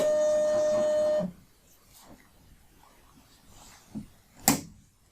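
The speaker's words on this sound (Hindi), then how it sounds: "हमने इसको प्रिंट किया" A label printer running out a barcode sticker: a steady mechanical whir for just over a second, then stopping, followed by a few faint handling clicks and one sharper knock near the end, with no talk.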